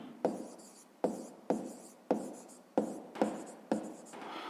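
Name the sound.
writing out a math solution by hand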